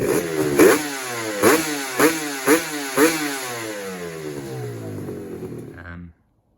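A Suzuki RGV 250 (VJ22) two-stroke motorcycle engine revs in five sharp bursts, then holds a steady, fairly loud drone before cutting off abruptly.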